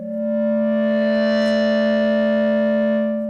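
A sustained Novation Peak synthesizer note with overdrive and distortion drones loudly, rich in buzzing harmonics, swelling in and fading slightly at the end.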